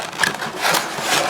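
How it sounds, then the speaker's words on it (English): Figma action figure box being opened up close, a brief loud scrape and rub of cardboard lasting about a second, with no speech. "So, opening the box"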